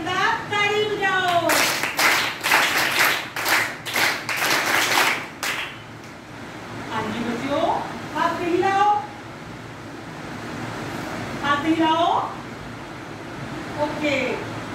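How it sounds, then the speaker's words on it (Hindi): Children at a Punjab summer camp clapping their hands together in a loud, rapid, rhythmic burst lasting about five seconds, followed by a voice speaking over a quiet room. "चंपक के अंदर ताली बजाओ।"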